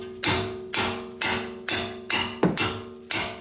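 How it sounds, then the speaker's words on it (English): A hand strikes a ratchet handle to break loose a tight brake bolt on an Audi/VW, seven sharp metallic whacks in a steady rhythm, each ringing briefly, close and loud. "I'm pushing down with my left hand, and I'm right-handed, and I'm striking the ratchet with my right hand"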